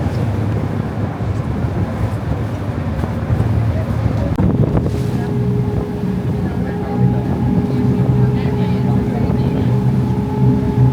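Wind buffets the microphone aboard a boat on the water in Portugal, a loud continuous rumble with a steady tonal hum from the vessel running underneath.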